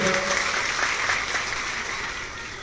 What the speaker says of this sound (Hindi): एक बार जोरदार ताली बजाइए राजेश जी के नाम पर।